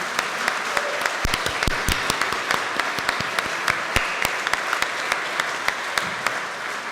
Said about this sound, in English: please give a round of applause, another round of applause for Mr. Samson Parashina,